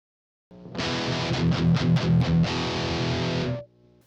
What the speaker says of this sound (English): This combination of active pickups, compression, distortion, and EQ give us a crushing metal guitar tone.